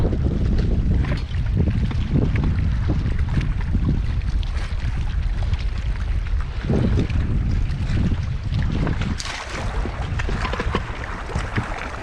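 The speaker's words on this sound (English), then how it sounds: "this wind is terrible" Strong wind buffets a fishing boat on the water during a bass tournament on Cherokee lake, a loud continuous low roar with gusty microphone rumble throughout.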